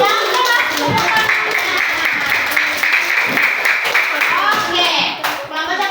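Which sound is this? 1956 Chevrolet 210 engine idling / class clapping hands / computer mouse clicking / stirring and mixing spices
class clapping hands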